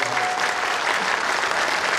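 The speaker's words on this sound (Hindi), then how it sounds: "सबके लिए एक बार जोरदार तालियां बजाइए" Steady, loud applause fills a Hindi poetry gathering (kavi sammelan), with many hands clapping densely and without pause from start to finish.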